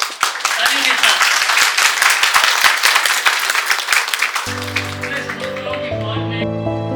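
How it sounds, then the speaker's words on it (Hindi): An audience at a Kargil Diwas tribute event claps in a dense burst of applause. The clapping thins out after a few seconds as music comes in underneath. "इसलिए मैं चाहूँगा कि आप सब उन्हीं के लिए तालियों से उनका अभिनंदन करें।"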